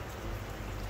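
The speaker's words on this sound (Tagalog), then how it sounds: "At umuulan." Steady rain patters on a surface near floating oyster farms, a dense, even hiss of drops lasting under a second.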